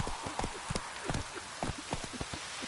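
The horse Roach trotting in The Witcher 3 video game, an even run of clip-clopping hoofbeats, close and moderately loud, over a soft hiss like light rain.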